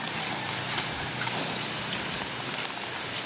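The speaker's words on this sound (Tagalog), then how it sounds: "Lumalakas na naman yung ulan." Heavy rain pours steadily during Typhoon Wilma, a dense, constant hiss of drops hitting surfaces nearby, growing stronger with no voices present.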